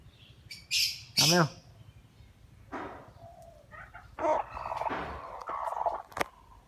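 Bantam chickens squawk loudly in sharp bursts, followed by scattered clucking and rustling nearby, with no talking.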